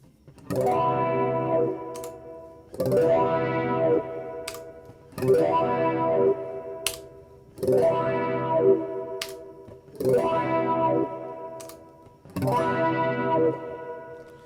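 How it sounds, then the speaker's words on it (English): A guitar chord is strummed again and again through an Axe FX 3 wah effect, six or seven ringing strikes about two seconds apart, each swelling and decaying with a sweeping filtered tone, the wah's control taper shifting as it repeats. "we're gonna play the same chord over and over again, rapid succession, changing this control taper from log 30 all the way up to linear really quickly"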